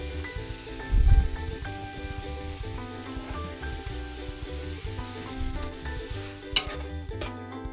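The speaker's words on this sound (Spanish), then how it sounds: "Vamos a incorporar el arroz." Rice goes into pepitoria in a pot and gets stirred, with scraping spoon strokes over a steady sizzle and a brief louder clatter early on, all over a low background hum.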